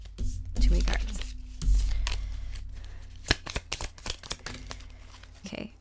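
Tarot cards are shuffled close by, making soft rustling and riffling bursts with a few sharper card snaps later on, under a low hum. A voice is heard faintly in places.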